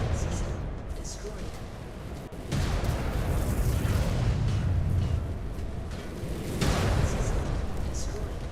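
Incoming missiles slamming into a mech in MechWarrior 5: Clans, heavy booming impacts with rumbling blasts that swell twice, under a steady battle roar.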